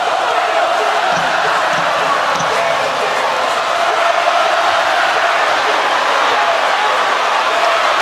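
A dense, roaring arena crowd cheers without pause during the Claressa Shields vs Savannah Marshall boxing fight, a loud wall of sound held the whole way through.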